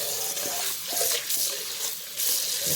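Running tap water pours steadily over fresh aloe vera leaves as they are rinsed in a sink. It is a continuous close splashing with small surges, and no voice is heard.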